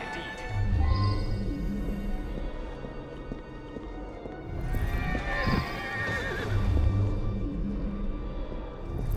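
Horses whinny loudly several times over galloping hooves and a busy street background in the video game Assassin's Creed Syndicate, the neighs rising and falling near the listener.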